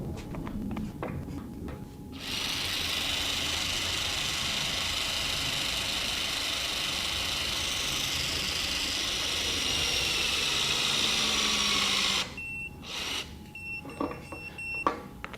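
An 18V Makita XWT14 cordless impact wrench torques bolts to 250 foot-pounds in one loud, steady hammering burst of about ten seconds, followed by a couple of shorter bursts and small beeps nearby.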